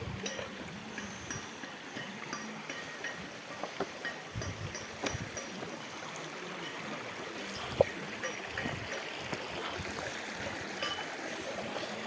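Water rushes steadily at the Machha Kandana waterfall in Mayurbhanj, a constant broad hiss of flowing water, close and even, with a few faint clicks and knocks standing out briefly.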